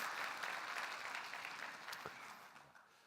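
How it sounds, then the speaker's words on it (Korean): Audience applause at an entrepreneurship concert talk, a dense wash of clapping that starts loud and gradually fades over a few seconds, with no talking over it. "박수 한번 쳐주십시오."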